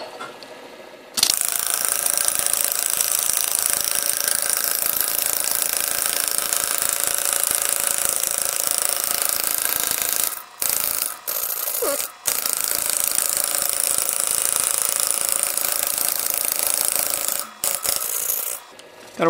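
A homemade pneumatic metal engraver cuts into soft aluminum with a steady, loud buzzing rasp that runs for long stretches, broken by a few brief pauses.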